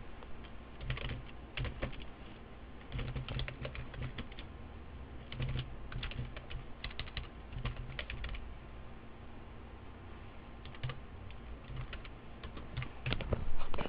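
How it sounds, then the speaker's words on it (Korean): Quick, steady keystrokes patter on a computer keyboard in an office setting while data is typed into accounting software, close and fairly quiet, with brief pauses between runs of typing and no talk. "시험 볼 때는 그냥 타이핑을 하는 겁니다"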